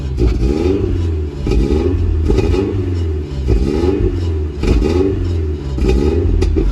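A car engine with a faulty exhaust is revved again and again in a garage, the pitch swelling and falling in repeated cycles, with sharp pops breaking through close up and no talking.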